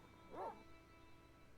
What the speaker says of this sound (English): No, that's just the dogs. I guess they still don't like me.